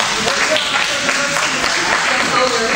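An audience at a League of Women Voters election forum in West Ashley claps in a dense, steady wash of applause, with a voice speaking over it.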